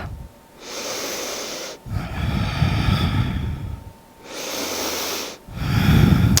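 Deep, slow breaths drawn in and pushed out through the nose during a yoga hip-flexor stretch, close and loud, in long hissing cycles with brief pauses between them.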